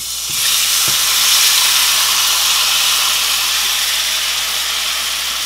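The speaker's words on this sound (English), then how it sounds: "Now we're going to allow these to saute" Shrimp for a seafood pasta salad sauté in a hot pan, producing a loud, steady sizzle that starts abruptly after a couple of faint knocks and continues without talking.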